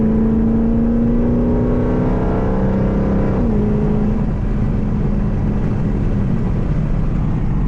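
A tuned Jeep with a 5.7 engine drones loudly up close, its engine note steady, then dipping and shifting midway as it downshifts and revs with a deep exhaust rumble.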